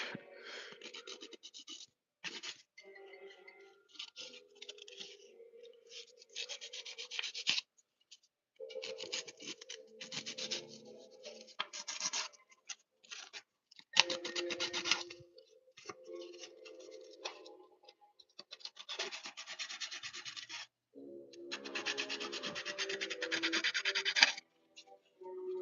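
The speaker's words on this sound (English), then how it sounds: "Gritty sandpaper. Not like the dance. Not the gritty sandpaper." Gritty sandpaper rubs and rasps across a custom painted figure in bursts of close, dry scratching strokes separated by short pauses, with no talking.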